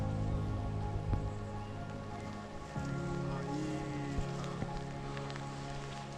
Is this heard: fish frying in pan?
no